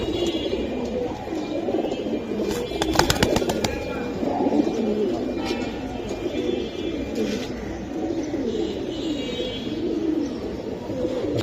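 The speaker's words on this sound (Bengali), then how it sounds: "রাব্বানি কবুতর মাশাআল্লাহ" Giribaz pigeons cooing in a steady, low murmuring chorus, continuous and fairly close, with a brief rattle of wing flaps partway through and faint voices underneath.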